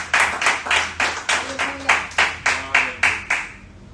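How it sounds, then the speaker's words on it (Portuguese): Church congregation clapping in unison during a worship service, about a dozen strong, evenly spaced collective claps in a steady rhythm that fade out at the end. "Você pode aplaudir ao Senhor com o seu melhor?"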